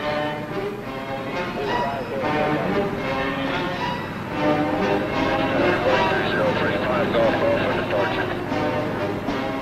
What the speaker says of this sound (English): From the main heliport at Walters, the copters take off to fan out toward the various training fields or stage fields scattered throughout the countryside